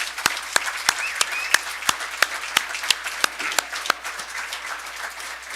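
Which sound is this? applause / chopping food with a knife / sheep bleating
applause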